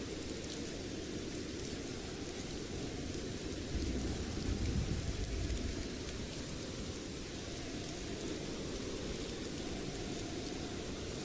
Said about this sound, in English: Rain's come from nowhere